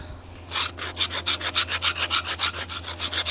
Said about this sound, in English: So what we do is the same thing as if we were scraping to make shavings.